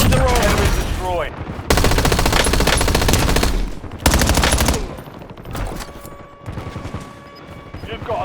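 Automatic gunfire rattles in Call of Duty on Rebirth Island, with rapid bursts and some single shots, loud and dense. Announcer-style game voices come in between the bursts.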